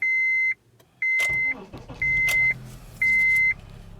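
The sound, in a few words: car engine starting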